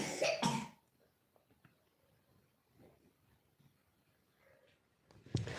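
Two loud, harsh coughs close up at the start, then a quiet stretch of faint shuffling, ending with another sharp cough.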